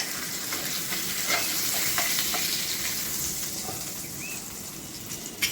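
Thick pieces of katla fish fry in hot oil, a steady close sizzle and crackle with occasional sharper pops and spatters, and no one talking.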